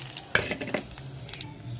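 Cumin seeds, dry red chillies and bay leaf sizzle in hot oil with a continuous crackling fry, punctuated by a few sharp clinks of a spoon against the pan.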